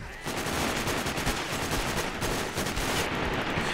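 Rapid sniper rifle gunshots in the video game Sniper: Ghost Warrior, loud and dense, cracking repeatedly in quick succession with little pause between them.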